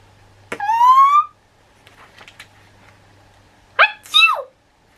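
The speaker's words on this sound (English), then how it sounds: "He threw a pepper bomb that made us both sneeze." Sneezing set off by a pepper bomb: two bursts of sharp, high, squeaky sneezes a few seconds apart, loud and close, with faint rustling between them.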